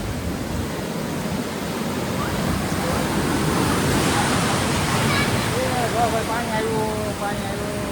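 Sea surf roars continuously as waves wash in, a loud broad rushing swell with faint voices and bird-like chirps toward the end.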